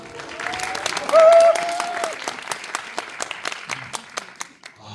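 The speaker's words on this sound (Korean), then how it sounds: "서로 박수 한 번만." An audience at a film festival screening and talk in a Seoul cinema hall claps together in a short burst of applause, fairly close, with a brief whistle-like tone near the start and the clapping thinning toward the end.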